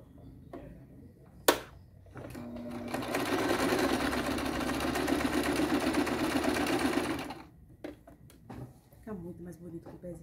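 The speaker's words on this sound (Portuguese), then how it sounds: "O acabamento com o pezinho é outra vida, ó." A sewing machine fitted with a presser foot stitches a seasonal table runner in one steady, fast-whirring run of about four seconds, framed by clicks and handling noises and someone speaking before and after.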